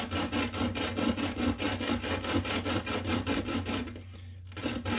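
Fine-grit sandpaper worked in a rapid back-and-forth over the aluminum thread face of a custom lightsaber, giving a steady, rhythmic rasping that runs throughout and pauses briefly near the end.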